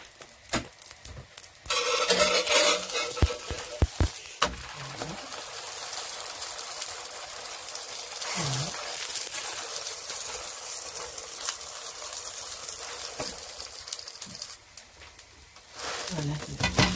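Moroccan msemen stuffed flatbread frying in oil in a pan, a soft sizzle with occasional scraping and handling clatter, interrupted by brief bursts of louder crackle, while a person talks quietly at times.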